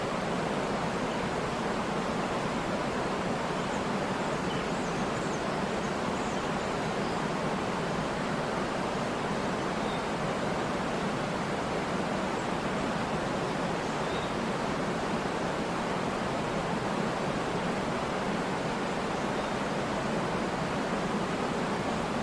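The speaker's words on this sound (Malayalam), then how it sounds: "ഏകദേശം 50 അടിയിലധികം ഉയരത്തിൽ നിന്നുമാണ് വെള്ളം അതിശക്തമായി താഴേക്ക് വന്ന് പതിച്ചുകൊണ്ടിരിക്കുന്നത്" Water plunges from over 50 feet down a waterfall with great force, a dense, continuous, loud roar that stays steady and unbroken throughout, with no voices.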